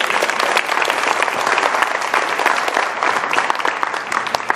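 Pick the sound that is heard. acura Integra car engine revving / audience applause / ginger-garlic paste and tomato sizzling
audience applause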